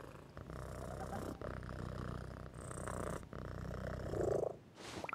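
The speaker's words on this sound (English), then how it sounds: "I'm gonna go pat the cat. It purrs." A cat in a video game purrs close up in a steady rhythmic rumble with short breaks between breaths, soft and alone without talk.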